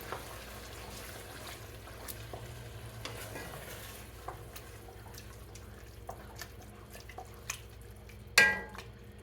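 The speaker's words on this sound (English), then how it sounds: "Then I'm going to come in with my spatula and we're going to give this a stir." Chili with tomato sauce and fire-roasted tomatoes stirred with a spatula in a pot, soft wet scraping and gentle sizzling under a quiet hiss, with occasional light knocks and one sharp clatter near the end.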